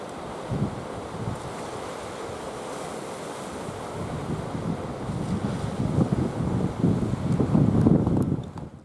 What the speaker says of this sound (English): Hope you can hear the water crashing on the rocks.